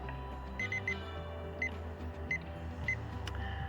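Repeated short electronic beeps in pairs from a meat thermometer in a smoker, over a low steady hum, moderately loud and close.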